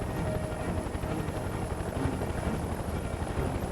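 Helicopter in the video game Mercenaries, a steady whirring rotor drone with a low rumbling chop that holds at an even level throughout, with no voices over it.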